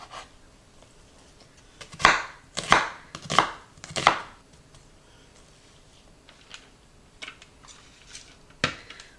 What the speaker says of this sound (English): I'm just going to slice these and then give it just a slice down the middle.